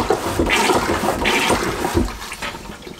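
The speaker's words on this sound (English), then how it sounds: "When the pump is set to flush, bringing in water and letting out water" Marine toilet hand pump being worked to flush aboard a Beneteau Oceanis 41.1 sailing yacht: close, rhythmic pumping strokes with sloshing, gurgling water, repeated about three times.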